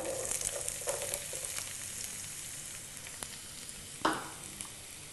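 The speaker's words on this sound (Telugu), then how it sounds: "ఇప్పుడు ఇందులో కట్ చేసి పెట్టుకున్న ఆనియన్స్ వేద్దాం" Chopped onions go into hot oil, a soft steady sizzle with a few light stirring taps and one sharper clatter near the end, fairly quiet and close, with no voices.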